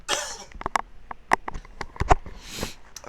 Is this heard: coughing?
yes